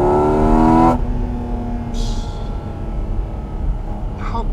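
A Porsche GT4 RS Weissach with its intake valves opened pulls hard under load, a loud rising engine howl that cuts off sharply, followed by a lower rumble and a brief hiss.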